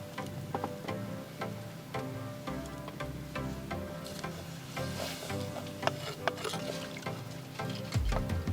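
A pan of curry with added water bubbles and simmers steadily with faint clinks and scrapes of stirring, a continuous wet cooking sound with no talking.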